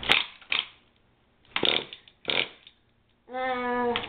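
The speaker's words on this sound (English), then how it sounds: "grab your pull start and pull it 2 times" Pull start on a nitro RC car engine yanked several times: four short raspy ratcheting pulls with gaps between, then a brief buzzing engine-like drone at the end, fairly quiet and close.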